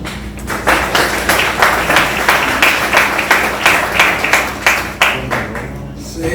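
Applause at a Pittsburgh public schools press conference, loud individual claps in a fairly regular rhythm from a nearby small group, slowing and thinning toward the end.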